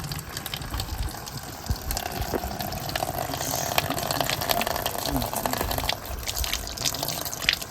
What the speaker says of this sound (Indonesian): ini salah satu sumber mata air di Gunung Sagara